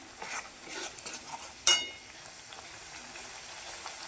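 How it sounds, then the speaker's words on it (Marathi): Masala sizzles softly in oil in a kadhai, a quiet crackling fry broken by one sharp metallic scrape of a spoon against the pan. "कढईमध्ये तेल ओतून मसाला चांगला फ्राय करून घेऊया आपण"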